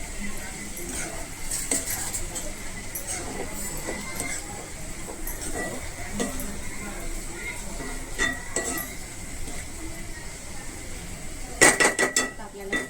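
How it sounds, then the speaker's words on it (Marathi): Salt mixed into dried fish fry with spring onion in a pan, a metal spoon clinking and scraping against the pan under a low sizzle, with a cluster of sharper clinks near the end; talk is also present. "आता आपल्याला चवीनुसार मीठ टाकायचं मिक्स करून घ्यायचे व्यवस्थित"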